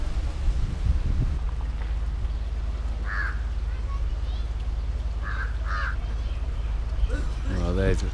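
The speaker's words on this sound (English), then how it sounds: "The monkey's got a bit of food and the crows really want it." Crows caw in short bursts from a treetop while chasing a monkey that holds some food, heard through wind noise with a person talking nearby.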